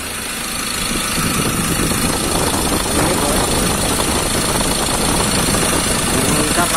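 Ford Ranger 2.2 diesel engine idling up close after a turbo solenoid repair, a loud steady rumble with an even knocking clatter throughout.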